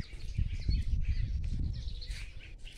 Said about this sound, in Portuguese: Olha como tá de passarinho cantando aqui.